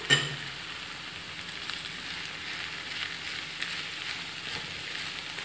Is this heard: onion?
yes